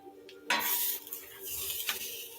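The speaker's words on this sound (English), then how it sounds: "You just whisk it up like you would make a regular." Vegetable broth sauce whisked in a pot, a quick burst of metallic scraping and swishing strokes against the pan under a faint background hiss.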